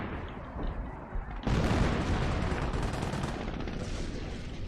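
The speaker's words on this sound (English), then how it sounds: "Arty coming down, could be on the MG" Artillery barrages in a World War II strategy game, a dense rumbling roar of shelling that swells abruptly partway through and keeps pounding continuously at close range, with no voices.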